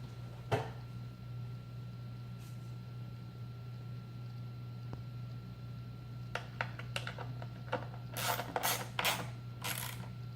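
Metallic clicks and a short ratcheting burst come near the end while bolts are tightened on a MillRight Carve King CNC bracket. A steady machine hum runs underneath, and no one speaks.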